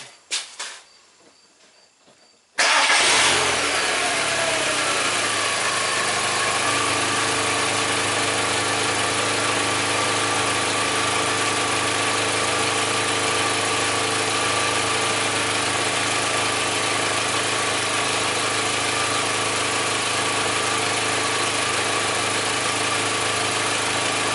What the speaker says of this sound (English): Let's just crank it, see what our signals look like.